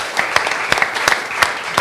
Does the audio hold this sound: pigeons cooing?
no